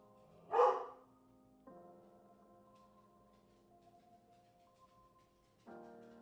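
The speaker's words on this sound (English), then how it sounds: "I'm sorry for the dogs, y'all." A dog lets out one sharp bark, agitated by a mail truck nearby, followed by quieter sustained tonal sounds in an otherwise quiet indoor room.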